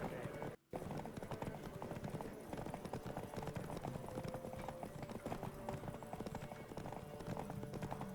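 Rapid, steady hoofbeats of a galloping horse in The Witcher 3: Wild Hunt pound on without pause, loud and close, with a brief dropout near the start.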